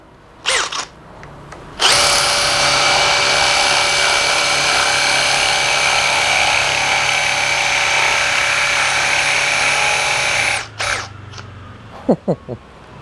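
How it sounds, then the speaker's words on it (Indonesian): A Makita HP002G 40V XGT brushless cordless hammer drill bores with a spade bit at speed 2, a loud steady high whine lasting about nine seconds, preceded by a short burst and followed by light handling knocks. "Kita coba dulu aja ya untuk mengebor dengan bor kipas."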